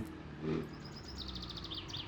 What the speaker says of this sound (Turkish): Kuş sesleri falan.